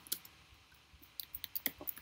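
A computer keyboard tapped in a terminal, with quiet, scattered clicks that gather into a quicker run of keystrokes toward the end.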